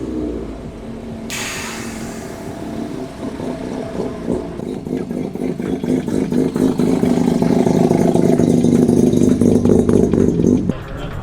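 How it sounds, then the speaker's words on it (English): Car engines idle and then rev up nearby as cars pull off a race track at a track day, a rough throaty drone rising in loudness as vehicles pull away, with faint voices underneath. "grab some photos and videos of some of the other cars pulling off the track"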